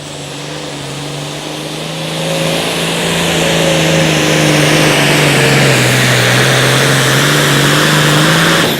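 A New Holland pulling tractor engine roars at an outlaw tractor pull at night, loud and close, climbing in pitch and holding a strained, steady drone.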